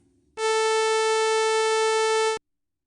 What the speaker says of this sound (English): We played a 440 hertz sawtooth wave.